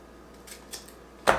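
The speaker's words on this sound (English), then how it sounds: "So the lead that's on your film, you have to cut it. So I'm using these scissors." Scissors snip through the leader of black-and-white photographic film in one sharp, close cut near the end, after a couple of faint handling clicks in a quiet room.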